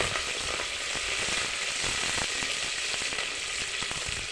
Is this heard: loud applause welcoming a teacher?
no